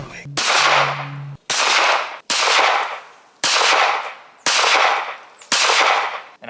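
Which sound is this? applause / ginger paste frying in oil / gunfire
gunfire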